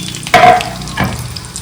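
Chopped onion hits hot oil for a prawn biryani tempering, bursting into a loud sizzle that fades, then a second softer sizzle as it is stirred, with no talking.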